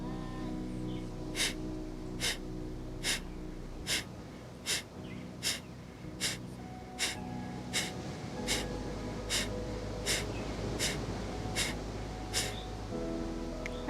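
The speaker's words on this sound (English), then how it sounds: "we exhale with short, sharp breaths. And the emphasis is on the out breath" Rapid, short, sharp breaths forced out through the nose in a yoga breathing exercise, around fifteen even, forceful exhales in a steady rhythm, close and clear over a faint background hum.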